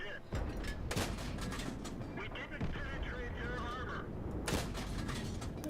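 Tank cannon fire in the World of Tanks video game: a few sharp, heavy booms, one early and another near the end, with rumbling decay between them and a faint voice in the background.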